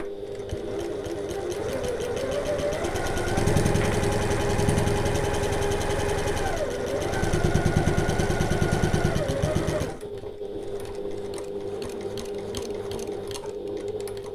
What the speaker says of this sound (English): I'm doing a few back stitches.